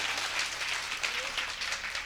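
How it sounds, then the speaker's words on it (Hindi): Steady, dense applause from an audience at a Kavi Sammelan and Mushaira poetry gathering held at a school, sustained crowd clapping throughout with no gaps. "एक बार पुनः जोर से ताली बजाएं।"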